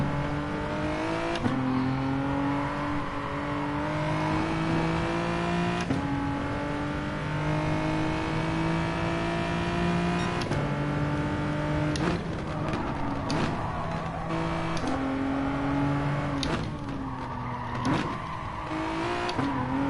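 A CC SIM GR4 Genesis race car in a racing game revs hard through the gears, the engine tone climbing steadily before abrupt shifts drop the pitch, repeating many times with quick downshift blips, loud and close throughout with no talking.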